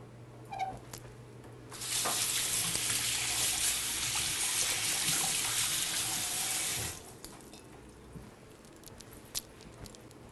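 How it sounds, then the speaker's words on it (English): A kitchen tap runs steadily for about five seconds as hands are rinsed under it, a close, broadband rush of water with quiet handling noises before and after. "Now, I'm going to rinse my hands off."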